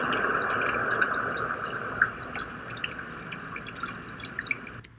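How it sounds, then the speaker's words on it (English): Raindrops at a lowered volume, soft scattered drips and patters over a faint steady wash, quiet and continuous with no voices. "I'm going to have the raindrops not be as loud as they were."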